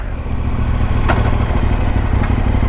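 A 2017 KTM Adventure 1090 motorcycle engine rumbles loud and close while riding and slowing down, a steady low drone with faint clatter and no talk.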